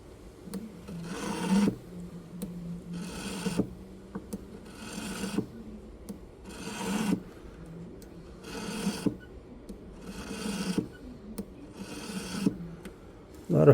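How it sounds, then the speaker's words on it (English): Hand filing of a metal ring in slow, regular bursts of rasping strokes, about seven spaced passes with short quiet gaps between them, close and fairly soft. "We're going to be doing a lot of filing."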